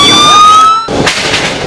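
Emergency sirens wailing during unrest in Isiolo town, a loud, steady, high tone holding close by before cutting off abruptly into a noisy, chaotic street wash.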